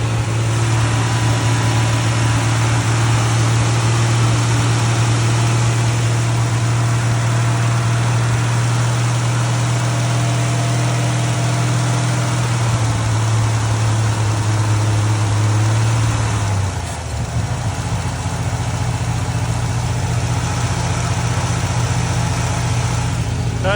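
A small engine runs steadily on old gas from last year, its loud, close, even hum holding for a long stretch before the pitch drops and it settles into a lower idle, with no talk.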